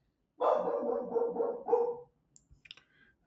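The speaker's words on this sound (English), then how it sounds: "if you can hear some barking" A dog lets out a short burst of barks and yips, somewhat muffled, followed by a few faint clicks.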